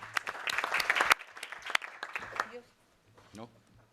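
A conference audience gives brief applause after a talk, with scattered sharp claps that swell, then fade quickly as a voice speaks and murmurs follow.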